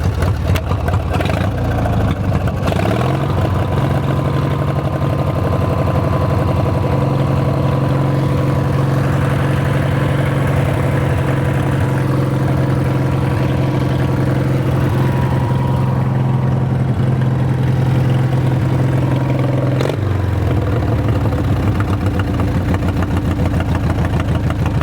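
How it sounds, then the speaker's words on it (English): An engine idles a little high with a steady, loud mechanical drone and a constant tone, dipping briefly near the start and again toward the end before settling back, with no one talking. "That's still idling a bit high."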